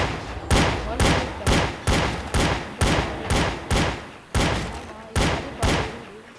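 A custom gun mod in the video game Minecraft fires about a dozen loud, punchy shots at an even, fast pace, each with a short decaying tail, with no talking over them.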